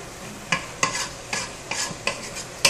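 Chicken in tomato sauce being stirred in a pan for a Mexican entomatado de pollo, with about six sharp scraping strokes at an even pace over a soft sizzle, close and clear with no talking.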